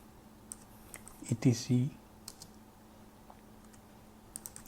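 A Linux command being typed on a computer keyboard in a Kali Linux terminal: a few sparse, light key clicks spread across the moment, with a brief burst of speech in the middle.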